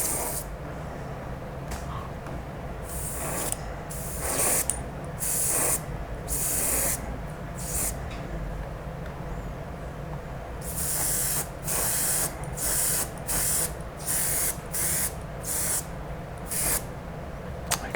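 An airbrush sprays thin paint onto a Tamiya Comical Grasshopper model kit in close, hissing bursts of a second or two, switched on and off repeatedly with brief quiet gaps and a low fan hum behind.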